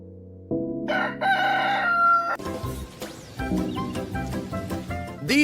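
A rooster crows loudly among farm animals, its long harmonic call rising and holding over a busy, noisy background, with a short clucking burst at the end.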